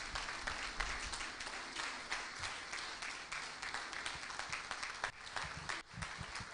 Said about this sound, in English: Please, can we have a round of applause for Mr.